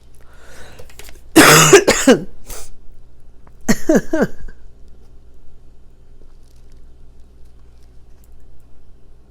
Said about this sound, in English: when I coughed